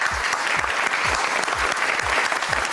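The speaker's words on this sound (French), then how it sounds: "On applaudit très fort, Manuela." An audience at a beauty pageant claps loudly and continuously, with a steady low thumping beat pulsing underneath.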